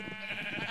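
A single short sheep bleat from the video game Minecraft, a nasal, wavering cry heard clearly and alone at moderate volume.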